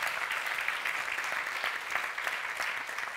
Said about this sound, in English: can we have a preemptive round of applause